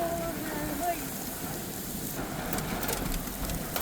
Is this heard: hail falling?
yes